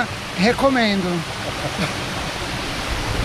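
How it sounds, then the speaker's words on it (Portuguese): Steady broadband rush of the Véu da Noiva waterfall in Ubatuba, constant and fairly close, with a person speaking briefly over it near the start. "Cachoeira Véu da Noiva"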